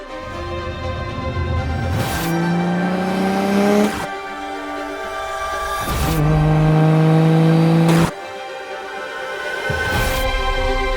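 A race car engine screams loud and close, climbing in pitch through repeated hard accelerations, each cut off sharply at a gear change before the next pull.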